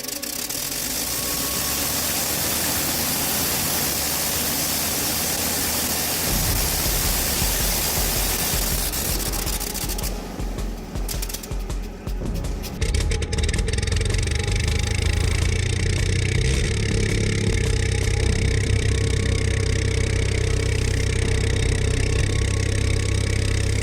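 A 1912 Gnome Omega early rotary aircraft engine runs loud and close with a rough, steady roar that falters and sputters midway, then settles back into a deep sustained drone.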